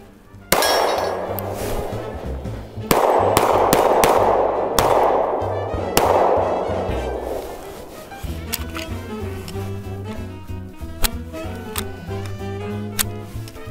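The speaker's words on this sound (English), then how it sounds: "It's a soft shooting gun." Repeated shots from an FN 510 10mm pistol at an outdoor range, loud sharp cracks spaced a second or two apart, followed by metallic clinks of handling and spent casings.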